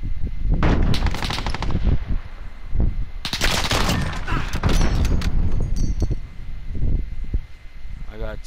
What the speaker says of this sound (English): Two more sniper bullets, one for each one.